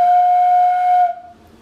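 A homemade PVC pipe whistle blown in one loud, steady, pure tone with overtones that holds for about a second before cutting off, close to the listener.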